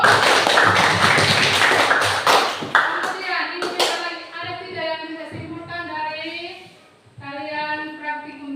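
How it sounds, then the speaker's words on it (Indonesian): Classroom of students clapping in a burst of dense, fast applause for a few seconds that thins into scattered claps and fades out, before a teacher's voice takes over and speaks alone. "Ya, tepuk tangan dulu."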